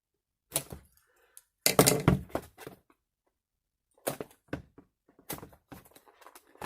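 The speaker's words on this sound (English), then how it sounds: "As I go ahead and slightly butcher the box while opening it" A cardboard keyboard box is opened roughly, close dry cracks, thunks and scraping tears in short clustered bursts separated by pauses.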